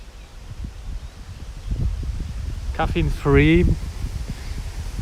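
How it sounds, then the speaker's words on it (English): Strong wind buffets the microphone outdoors in Tokyo, a steady low rumble with gusts that swell louder in the middle, running under brief talk. "Sorry, it's so windy."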